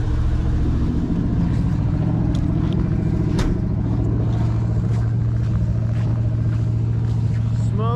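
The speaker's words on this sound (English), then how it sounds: "I don't know if you can even hear me or if you can just hear the motor" A 1967 GMC half-ton pickup's engine runs steadily up close, a loud continuous low rumble with a strong steady hum that fills the whole clip, with a faint voice lost beneath it.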